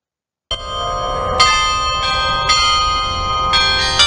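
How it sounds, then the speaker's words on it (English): Tuned bells in Nashville ring out after a moment of silence, with several loud, clear strikes roughly a second apart whose ringing overlaps and lingers, with no voices. "Bells are playing now."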